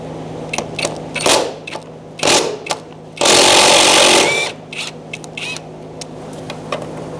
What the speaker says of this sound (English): Using a 10mm socket, we're going to remove this bracket